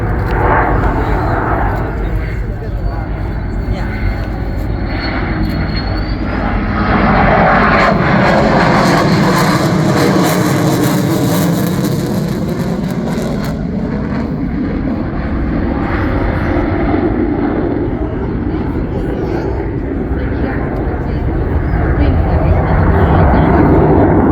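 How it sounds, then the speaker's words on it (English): A Blue Angels fighter jet running afterburners in flight during an intercept demonstration, a loud sustained roaring rumble that swells and shifts as it passes, steady throughout with no clear gaps. "We're going to use afterburners in this case to simulate the use of flares."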